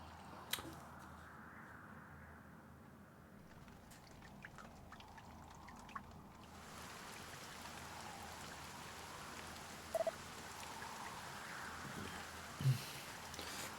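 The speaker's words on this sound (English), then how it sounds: "Lo, the rain doth fall, and soon enough the sun too shall fade." Rain falls in Dragon Quest HD-2D Remake as a soft, steady hiss heard quietly from a distance, with a few scattered light clicks and drips.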